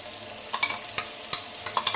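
A spoon stirs a thick ground paste mixture into a pan of palak paneer curry, a few distinct scraping knocks over a soft steady sizzle.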